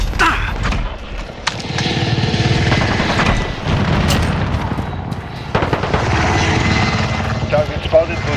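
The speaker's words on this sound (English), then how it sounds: "Support Helo ready to launch." A support helicopter arrives in Call of Duty: Modern Warfare, rotor thrum droning loudly over scattered gunfire and explosions, with voices speaking over the action.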